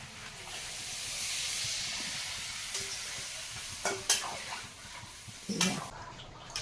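A pan of cooked-down chicken curry hisses and sizzles softly as water goes in, the steady fry broken near the end by a few sharp scrapes and clanks of a spoon against the pan.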